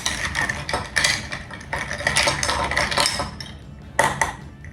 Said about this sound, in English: So now you just put a spoon in and just give it a little stir.